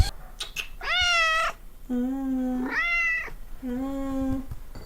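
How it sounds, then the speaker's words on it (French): A cat meows three times in close succession, each call loud and drawn out, heard up close in a quiet indoor room with no talking. "Le chat veut faire bisous ici."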